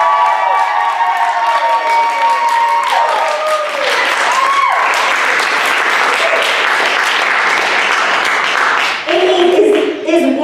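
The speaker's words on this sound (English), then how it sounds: "Can we have a round of applause for Amy?" Warm, sustained round of audience applause for Amy at a spiritual retreat event, full and continuous with some cheering, a voice speaking over it near the end.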